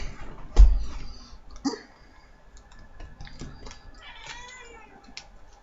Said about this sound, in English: That was my cat.